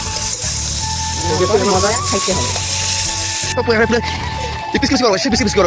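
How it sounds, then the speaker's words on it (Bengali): Loud, steady sizzling of jackfruit and chicken frying in a pan, with clinks and stirring scrapes and a voice talking over it. "আগে কাটাল ভাজলাম তারপরে মাংস ভাজবো"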